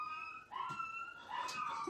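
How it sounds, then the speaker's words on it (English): A jealous pet dog whimpering indoors: faint, thin, high whines in two short drawn-out bursts separated by a brief pause. "Is that my dog?"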